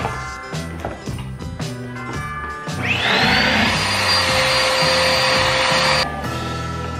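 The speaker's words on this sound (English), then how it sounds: "put the rubber band back on, and we should be all good to go" A household vacuum cleaner, just reassembled after hair was cleared from it, first gives a few clattering knocks, then switches on with a rising whine and settles into a loud, steady high-pitched roar before cutting off.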